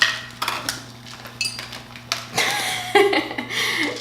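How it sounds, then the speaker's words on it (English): Semi-sweet chocolate chips poured into a bowl for plant-based oatmeal cookies, giving scattered light clinks and rattles in a quiet kitchen with a steady low hum underneath. "I'm gonna put ½ of a cup of these semi-sweet chocolate chips"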